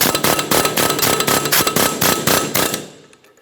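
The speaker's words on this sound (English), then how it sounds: "I'm going to be using an air chisel, try to make my way inside this area and gently start driving this out and away" Air chisel hammering a front wheel bearing race out of the hub on a 2012-2015 Honda Civic, a loud rapid burst of metallic clanging impacts that runs steadily for nearly three seconds, then stops.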